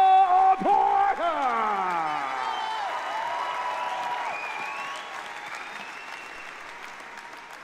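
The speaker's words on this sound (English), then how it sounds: "give a big round of applause to Nedjman Ambešković." A strongman crowd applauds and cheers for athlete introductions at an indoor arena, with loud whistles and shouts at the start before the noise settles into sustained clapping.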